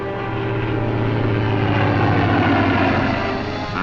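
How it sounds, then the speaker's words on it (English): Fleet Air Arm aircraft on patrol drone steadily overhead, a loud, continuous propeller-engine roar with a low hum that holds evenly throughout, with no voices. "planes of the Fleet Air Arm and Coastal Command patrol the skies and search the seas"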